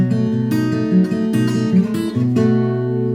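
An acoustic guitar plays a chord walk-up, each strum ringing before the next step, moving in a steady rhythm toward a final sustained chord.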